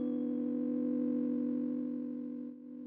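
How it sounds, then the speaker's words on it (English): A steady, pure sine-wave synth tone in an Ableton 11 track holds evenly for about three seconds, clean and sustained, with a slight dip near the end. "and then we have the sine wave synth."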